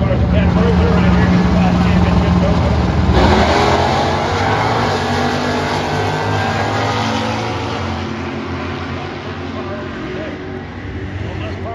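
Loud engine roar of a 1972 Chevrolet Chevelle with a 350 and a 1983 Chevelle with a 305 launching in an NHRA Stock Eliminator drag race at Maple Grove Dragway, fading gradually into the distance, voices talking over it.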